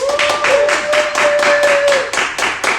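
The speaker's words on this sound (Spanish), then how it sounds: "Entonces, un fuerte aplauso para Nati." A small audience at a panel evening claps in a fairly sparse, rhythmic patter of distinct hand claps, close and lively, with a faint tone sustained underneath.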